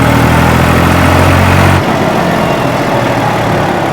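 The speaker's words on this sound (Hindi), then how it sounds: "जैसे मैं रेस को रेव कर रहा हूँ ना, तो क्विक रेस्पॉन्स डिलीवर करा रहा है ट्रैक्टर" A New Holland 3630 Super Plus tractor's engine runs loud and close at high revs, then drops abruptly to a lower, steady idle partway through.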